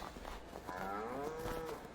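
Cows moo in Farming Simulator 22, one drawn-out, fairly close lowing call rising and falling over a steady background hum of the farm game's ambience.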